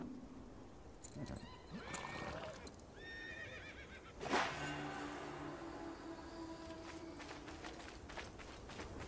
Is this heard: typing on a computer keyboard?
no